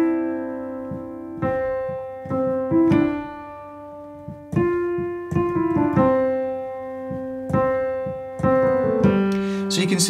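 A simple instrumental melody built from four short melodic phrases strung together in order, played alone with clear, evenly spaced notes at moderate loudness and no talking.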